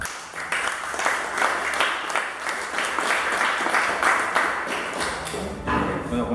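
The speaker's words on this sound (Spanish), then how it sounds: "para el cual pedimos un caluroso aplauso" Warm applause from an audience at a union conference fills the room, steady clapping at moderate loudness throughout with no talk over it.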